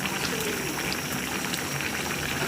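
A pot of gourd and fish head curry bubbles at a steady boil, with a dense, continuous crackle of small bursting bubbles close up.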